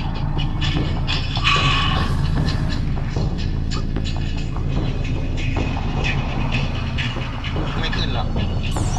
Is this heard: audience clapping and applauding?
no